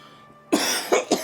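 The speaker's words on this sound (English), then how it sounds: "Cough." A single sharp cough followed by two shorter coughs in quick succession, close and fairly loud, with no talking.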